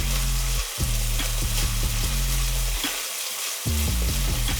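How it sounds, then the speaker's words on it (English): Beef sautéing in a hot pan for mapo tofu, a steady broadband sizzle close by with scraping and stirring clatter, a brief dip in the middle before the frying noise returns, no voices. "saute your beef till you have a nice crispy exterior"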